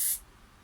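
A short, close burst of spray hisses as primer goes onto a crashed Porsche 911 996 bumper, then cuts off into quiet room tone.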